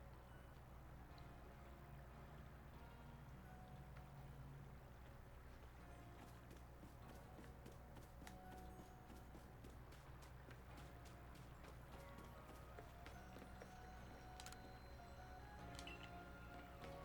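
Footsteps cross a bridge in the video game Pokémon Legends: Arceus, a quiet run of even, rhythmic clicking steps over a faint ambient bed, with no one talking.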